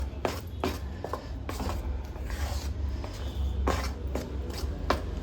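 Ghee being stirred into a ragi halbai mixture in a pan, heard as repeated scraping and knocking strokes of a spoon against the pan, fairly close, steady and with nobody talking.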